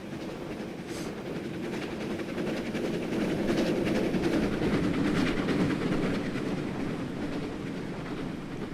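A train in Train Simulator 2015 rumbles steadily along the tracks with a low, continuous roar that swells in the middle, with faint clicking of wheels and no voices.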